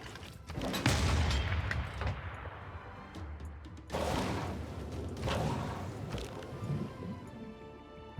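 A city launches a ranged attack on units in Civilization VI, a volley of gunfire and cannon-like blasts in a couple of loud bursts separated by a brief lull, backed by a rumbling battle ambience.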